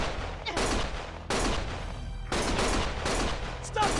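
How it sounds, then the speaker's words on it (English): Bursts of gunfire in the action video game Lost Judgment, loud and close, coming as three or four sustained volleys separated by brief pauses, with no voices over them. "Stop shooting!"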